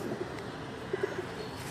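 Pigeon in a loft gives soft, low coos in a few short pulses, faint and somewhat distant against a muffled background, with no talk.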